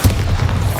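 A Bombarda spell exploding in the Hogwarts Legacy video game, a brief loud low boom that fills the whole moment.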